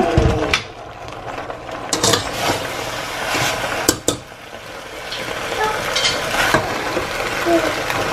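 Penne pasta going into a pan of alfredo sauce with broccoli and being stirred, with soft sizzling under repeated scraping and clinking of a utensil against the pan.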